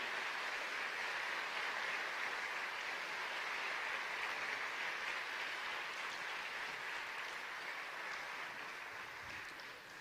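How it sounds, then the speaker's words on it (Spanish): A church congregation applauds in a continuous, fairly faint wash of clapping that carries on evenly for about ten seconds and eases slightly at the close. "Dale un fuerte aplauso, es palabra de Dios."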